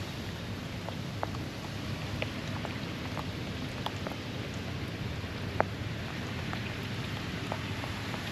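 Steady rain pattering on a roof with a newly installed skylight, a constant soft hiss with scattered individual drops ticking through it, fairly close and even throughout.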